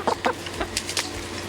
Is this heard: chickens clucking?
yes